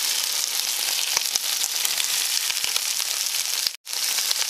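Seeded manzano chile sizzling steadily in a hot pan, a dense continuous fry with scattered pops and crackles, briefly cut to near silence once before resuming.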